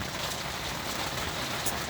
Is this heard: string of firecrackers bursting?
no